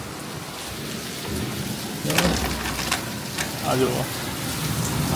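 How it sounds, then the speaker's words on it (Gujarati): Steady monsoon rain during the Bhadrava month falls on surfaces, with a low rumble of thunder and a few brief spoken words over the constant hiss. "ભાદરવા મહિનામાં વરસાદ જો ખાલી કેવો આવે જો"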